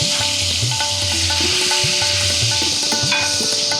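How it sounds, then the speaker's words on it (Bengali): Potato pieces frying in hot oil with whole garam masala of cardamom, cloves and cinnamon, a steady loud sizzle with occasional stirring knocks throughout. "এবার দিয়ে দিচ্ছি এই আলুটা।"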